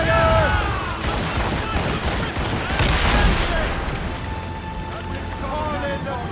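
Ship cannons fire in the video game Assassin's Creed Rogue, heavy booming volleys over rushing wind and sea-battle noise, with crew voices shouting throughout.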